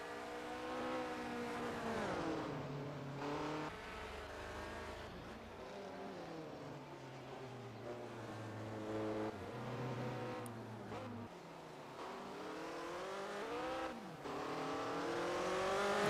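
A 1978 USAC Indy race car engine revs hard and modulates its throttle through a corner in a racing game, its pitch climbing and dropping across repeated gear changes, loud and continuous with no talk.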